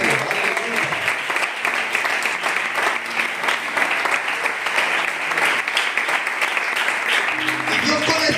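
Members of a church congregation applaud together in a long, even burst of clapping that holds steady throughout without fading.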